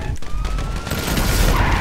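Rapid automatic gunfire crackles in a dense burst during a bank heist shootout in the video game GTA V, loud and close, with a brief voice underneath.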